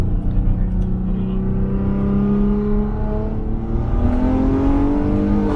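A modified Maserati Quattroporte accelerates with its exhaust valve open. The engine note climbs steadily, dips briefly as it shifts, then rises again, loud and close throughout.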